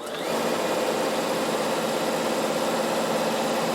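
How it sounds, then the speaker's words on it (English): A Bernina sewing machine stitches steadily across a trouser pocket, producing a continuous, even motor whir with a fast, regular needle buzz, close and constant throughout. "lay my pants down and I simply stitch across my pocket to hold it"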